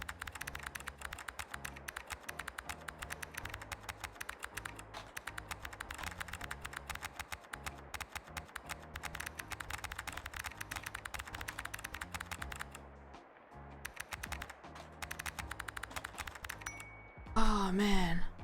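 Fast, steady clacking on a computer keyboard, close and crisp, with a brief pause near the end and a faint voice heard under the keystrokes.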